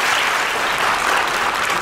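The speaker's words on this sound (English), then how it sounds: "So let's give them a round of applause." Audience applause during a school reunion visit to Taipei American School, a dense, continuous wash of clapping at full loudness throughout.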